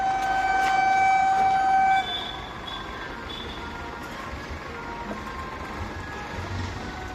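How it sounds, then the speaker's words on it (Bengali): A Sealdah–Krishnanagar galloping local train pulls into a railway station, its horn sounding steady tones at the start before fading into a broad, continuous rumble of rolling wagons nearby. "এই যে ট্রেন আসছে মানে ওই ওই যে ট্রেন ঢুকছে"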